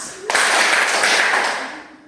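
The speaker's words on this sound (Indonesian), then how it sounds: "Kita beri 2 kali tepuk untuk kelompok 2." A secondary school class claps for a student group, a sudden burst of many hands that holds briefly before fading out, in a classroom setting.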